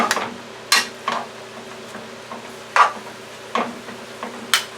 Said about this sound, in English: now I want to just flip it so that all the collard greens get the butter